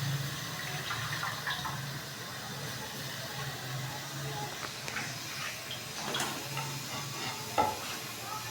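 Pumpkin being stirred and fried in a pan over low heat, a faint continuous sizzle with scattered scraping and stirring clatter, close but quiet, no talk heard.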